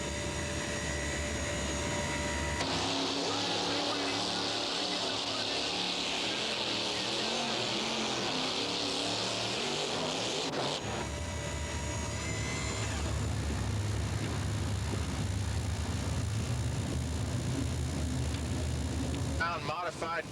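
A modified pulling tractor powered by a highly modified 1,710-cubic-inch Allison aircraft engine roars loudly and continuously at an Anaheim, California event, its pitch and texture shifting as it runs, with voices faintly underneath.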